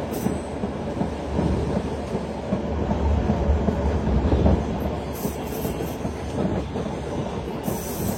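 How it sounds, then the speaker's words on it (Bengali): The Dhaka-bound Narayanganj Commuter 7 train rolls into Gandaria railway station in the early afternoon, a loud steady rumble of wheels on rails with clattering and faint high squeals from the wheels. "ঢাকা অভিমুখী নারায়ণগঞ্জ কমিউটার 7 এখন গ্যান্ডারিয়া রেলওয়ে স্টেশন প্রবেশ করলো"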